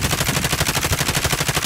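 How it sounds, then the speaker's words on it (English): Rapid gunfire in Rebirth Island, a steady burst of evenly spaced shots firing about ten per second, loud and close, filling the whole moment without pause. "just got sniped from prison or somewhere"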